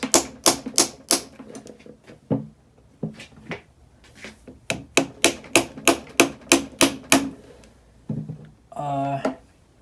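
A socket is tapped repeatedly against the wrist pin of an XR250L piston in a series of sharp, close, evenly spaced metallic knocks, with a short pause midway and a brief scrape near the end.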